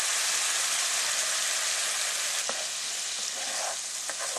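A hot buttered pan, just used for venison backstrap, is deglazed with a splash of liquid, giving a steady, loud, close sizzling hiss throughout with a few faint clinks near the end.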